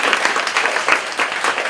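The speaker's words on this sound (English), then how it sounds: "big round of applause for her." Audience applause at an evening high school mental health symposium, a dense, steady burst of clapping from a crowd, close and loud for a couple of seconds.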